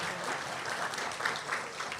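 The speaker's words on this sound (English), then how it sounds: "This is where you clap, all right?" An audience claps at a school district superintendent's annual State of the District address, a steady dense wash of applause from a crowd that holds fairly even for its whole length.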